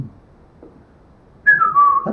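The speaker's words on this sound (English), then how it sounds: "how when you whistle," A person whistles a short sliding phrase that steps down in pitch, clear and close after near silence with faint room noise.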